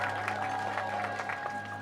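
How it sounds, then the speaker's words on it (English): Crowd applause and cheering in a video game arena during a 1v1 Zeus versus Zeus joust tournament match, a steady clapping wash at moderate level with a constant tonal hum running beneath it. "The crowd are going wild"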